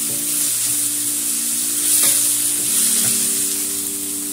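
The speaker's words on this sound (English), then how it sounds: "I'm going to stir fry the chickpeas, and that is what I'll be using as a filling for the samosa." Chickpeas stir frying over low heat for a samosa filling, a loud, steady hiss of oil with occasional stirring clicks and a faint hum beneath, no voices.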